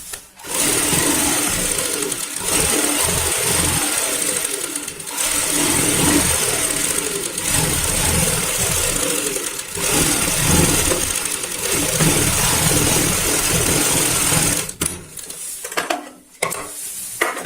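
A sewing machine stitches a baby bed sheet, running in a steady close whirring drone with a few brief pauses, then stopping and starting in short bursts near the end.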